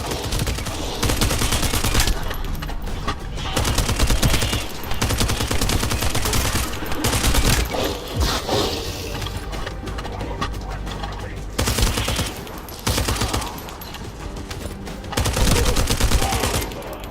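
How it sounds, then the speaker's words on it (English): Dense gunfire in the video game The First Descendant, continuous rapid bursts and explosions layered with game sound effects, loud and full throughout, with voices talking over it at times. "That stopped the gunfire."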